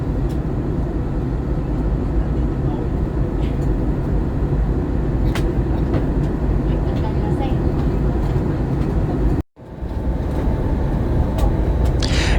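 Steady loud cabin roar inside a Vietnam Airlines passenger jet on approach into Ho Chi Minh City, a constant broadband rumble with a brief dropout near the end.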